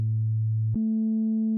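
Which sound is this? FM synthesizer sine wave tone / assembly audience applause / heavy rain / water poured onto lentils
FM synthesizer sine wave tone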